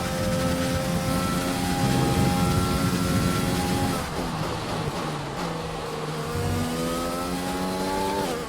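A Formula 1 car engine in F1 2020 at Silverstone screams at high revs, then drops off briefly around a gear change or braking and climbs again in rising sweeps, loud and close with no talk.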